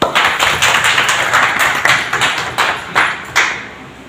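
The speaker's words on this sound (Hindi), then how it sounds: "सभी सुरक्षा सखियों का स्वागत एक बार जोर से ताली बजा के करें" An audience at a women's safety event applauds together, a loud, near burst of clapping with irregular sharp surges, steady for a few seconds before tapering off.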